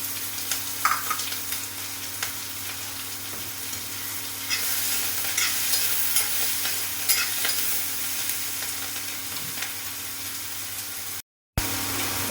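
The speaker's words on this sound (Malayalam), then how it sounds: "ഇനി നമ്മൾ ഇതിനകത്തേക്ക് ബാക്കിയിരിക്കുന്ന ഉള്ളിയും കൂടെ ഇട്ട് കൊടുക്കുന്നു. അതോടൊപ്പം തന്നെ നമ്മൾ അരിഞ്ഞ് വെച്ചിരിക്കുന്ന പച്ചമുളക് നമ്മൾ ചേർത്ത് കൊടുക്കുന്നു." Onions and chopped green chilies frying in a pan give a steady, close sizzle with light crackling and occasional stirring scrapes. The sizzle runs the whole time and cuts out briefly near the end.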